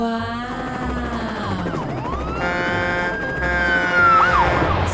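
An ambulance siren sound effect, loud and close, with sweeping wailing tones that rise and fall repeatedly and climb to a sharper peak near the end.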